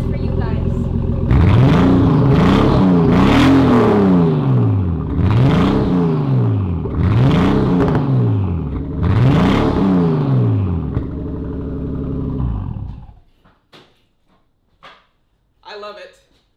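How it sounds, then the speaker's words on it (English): A loud straight-piped, turbocharged Nissan R34 Skyline engine revs repeatedly in rising and falling bursts, about five sweeps in a row, then cuts off, leaving a few faint clicks and thumps. "You hear the turbo whistle now."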